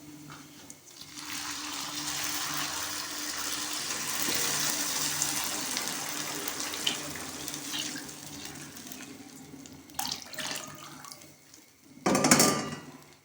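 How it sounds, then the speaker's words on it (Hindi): Sugar syrup poured into hot semolina in a pan for halwa, a steady close hiss and bubbling that fades, then a few sharp clatters of utensils near the end. "इसमें प्रिपेयर किया हुआ शीरा ऐड कर देंगे"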